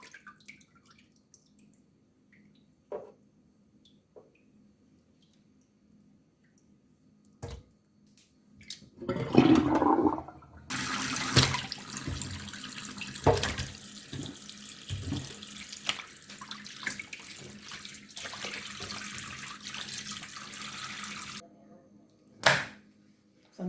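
Chicken wings being washed under running water at a kitchen sink: scattered clinks and drips at first, then a sustained rush of tap water with splashing and handling noises, stopping before a final few knocks.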